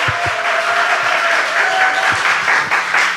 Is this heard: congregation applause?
yes